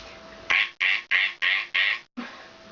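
A human voice mimics a duck, giving six short, bright quacks in a quick regular series, the last after a brief pause, close and alone with no other sound.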